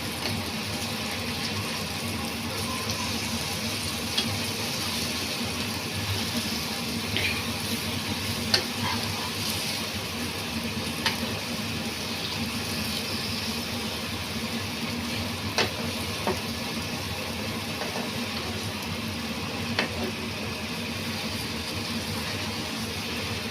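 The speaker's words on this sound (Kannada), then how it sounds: "ಹೀಗೆ ಸಿಮ್ಮಲ್ಲೇ ಸ್ವಲ್ಪ ಹೊತ್ತು ಫ್ರೈ ಮಾಡ್ಕೊಳ್ಳಿ." Paneer fries on a tawa with a steady, dense sizzle and crackle that runs throughout, broken by occasional small pops and scraping stirs.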